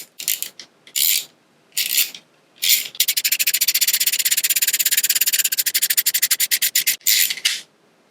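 A ratchet socket wrench tightens a bolt, first in a few short separate bursts of rasping clicks, then in a long fast run of rapid ratcheting, close and loud.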